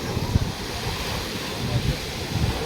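Waves wash onto a beach with a low, rolling surf rumble and wind buffeting the microphone, heard up close for a few seconds.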